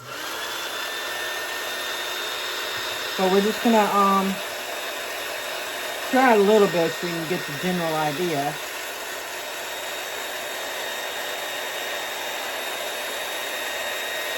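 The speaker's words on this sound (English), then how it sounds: "you can get a heat gun" Constant whirring drone of a heat gun blowing hot air over painted stamped fabric runs throughout, with a person talking over it in short bursts.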